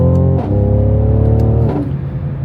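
A Mercedes-AMG car accelerates onto a highway at night, its engine giving a loud, rising growl from inside the cabin, with brief pitch dips as it shifts gears, and no talk over it.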